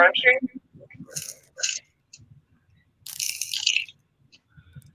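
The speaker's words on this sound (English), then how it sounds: "it was dirt gravel dropped to the ground" Dirt and gravel are dropped to the ground in two short, gritty, crunching bursts, the second one longer, with people talking in between.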